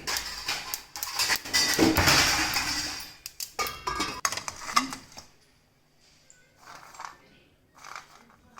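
Dishes clatter as a plate is set on a hot pan, just taken off the heat, where peanuts were roasting for kajjikayalu; a few seconds of dense clinking give way to quieter, scattered knocks.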